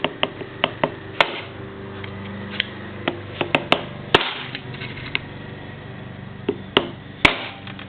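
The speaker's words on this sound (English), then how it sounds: "Screwdriver, hammer, catch the edge of this pin, give it a little rap." Sharp metallic taps from a hammer striking a screwdriver against a pin in a Honda CT70/Z50 engine, irregular and spaced apart, some louder than others, with no talking.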